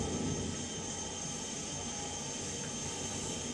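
A Transformers character in jet mode flies in the Revenge of the Fallen Xbox 360 video game, making a steady, loud jet engine roar that holds without break.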